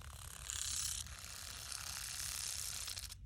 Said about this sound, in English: He's starting to rattle his tail.